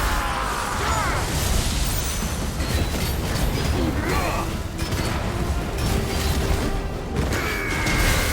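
Thunderous Judgment Bolt spell blast from Final Fantasy XVI, a loud sustained crackling, rumbling roar filling the whole stretch, with brief sharper bursts, near and dense.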